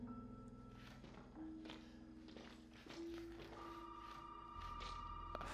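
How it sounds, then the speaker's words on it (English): A phone rings inside a video game as faint, steady electronic tones that shift pitch, over a low background hum with soft tapping steps. "a phone. Who could be calling me?"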